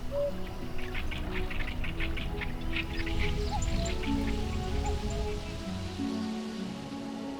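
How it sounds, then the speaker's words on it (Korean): Birds call and sing over a wetland in the morning, scattered chirps and whistles above a steady, dense wash of ambient noise, distant rather than close. "아름다운 새소리가 아침을 여는 화성습지는 천연기념물과 멸종위기 야생동물들의 서식지입니다."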